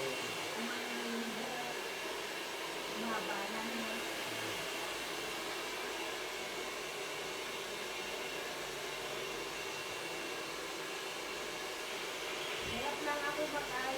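A hair blower runs continuously while hair is brushed and styled, a steady loud airy roar throughout with people talking faintly underneath.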